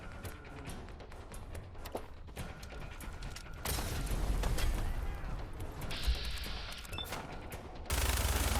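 A minigun in Fallout 4 fires in a dense, rapid mechanical rattle, sustained in long bursts with whirring and clattering between them and loud surges at moments.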